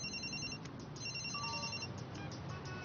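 A cartoon cellphone rings in an animated Ultimate Spider-Man episode dubbed in Hindi: a bright electronic ringtone sounds in short repeated bursts over a steady background hum, with no talking.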